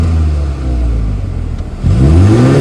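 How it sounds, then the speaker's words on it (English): A car with a Bootmod3 stage 1 tune idles loud and close, drops off briefly, then climbs in a strong rev with a rough, rumbling burble. "I'll put the phone in the back and then I'll give it a rev as well"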